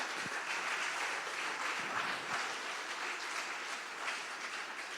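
A church congregation gives a loud round of applause during an evening service, with dense, even clapping sustained throughout at moderate volume and no talk over it.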